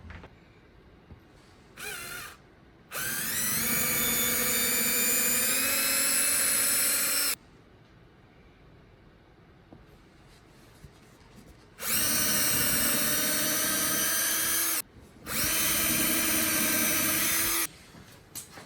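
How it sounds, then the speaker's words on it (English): Power drill boring through scrap wood in a workshop, three sustained whining bursts with rising pitch as the bit works through, separated by quiet pauses and a couple of short blips before. "when I'm drilling, I don't go through my sacrificial workpiece into my other sacrificial workpiece"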